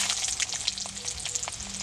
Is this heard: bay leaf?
yes